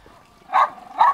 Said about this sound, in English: Someone's dog's come to tell us to move.